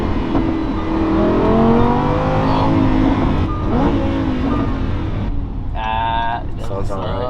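Lamborghini Huracan engine revving as it downshifts, loud throaty rises and falls of pitch close by, with people talking over it inside the car.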